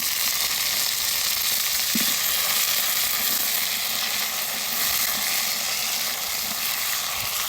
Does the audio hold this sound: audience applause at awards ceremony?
no